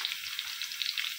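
Crushed garlic fries in hot oil in a pan for a tomato pickle, giving a close, even, bright sizzle with faint crackling pops throughout and no voices.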